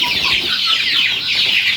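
Joper chickens in a poultry coop, many birds clucking and chattering together in a close, busy, continuous flock din without talk.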